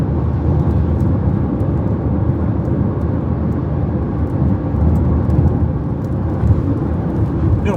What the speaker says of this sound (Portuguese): Porque tem bastante a rolagem do pneu no chão